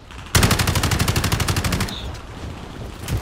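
Rapid automatic gunfire in Call of Duty: Modern Warfare, a loud close burst of evenly spaced shots lasting about a second and a half, then fading into ambient noise with a brief faint chirp.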